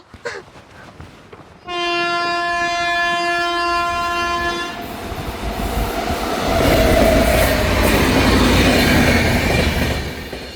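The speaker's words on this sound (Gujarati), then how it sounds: "હમણાં છે ને રેલગાડી આવીને ઊંધી પડશે" A train horn blares loudly for a few seconds, then the rumble and clatter of a passing train grows and fills the rest of the clip.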